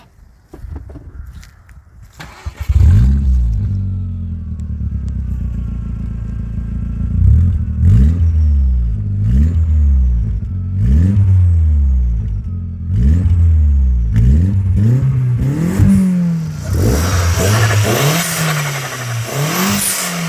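A tuned Audi A3 with a 1.8 turbo engine cranks and fires up, then revs repeatedly in loud close blips, each rising and falling, with a deep idle rumble between them and a hiss near the end.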